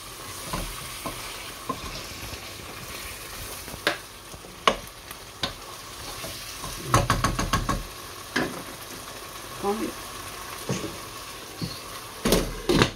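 Sweet corn kernels stirred through a masala in a pan, with scattered scrapes and knocks of a spoon over a faint, low background sizzle, the clatter coming in irregular bursts and grouping more densely midway.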